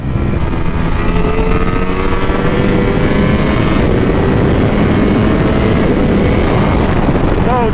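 A Ducati Panigale V4S motorcycle screams flat-out around Silverstone circuit, its engine loud and close at sustained high revs with rising pitch sweeps through gear changes, steady and unbroken throughout.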